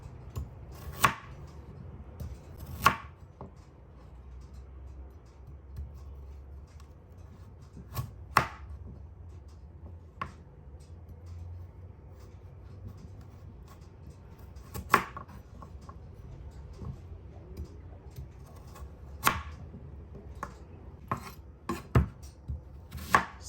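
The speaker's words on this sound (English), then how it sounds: "you just cut down the celery and just give it a cut" Celery and onions are chopped with a knife on a board, sparse, sharp, irregular cuts spread over a quiet kitchen background with no speech.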